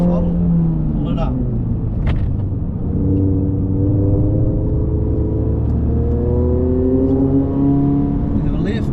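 A Subaru BRZ engine revs with shifting pitch as the car slides around the Pheasant Wood circuit, a steady close drone with a voice talking over it.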